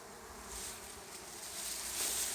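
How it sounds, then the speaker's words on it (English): Honey bees buzz softly around a hive in a steady, faint drone with a few louder passes near the microphone. "You can see the amount of bees there."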